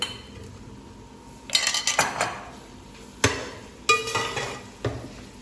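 A metal spoon knocks and scrapes against a hot pot as boiled, mashed potatoes are tipped in and stirred, in short clattering bursts with pauses.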